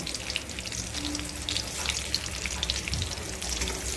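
Chopped garlic frying in hot oil in a pan for prawn chutney, a steady broadband sizzle and crackle running throughout, fairly close, with faint clinks and no voices.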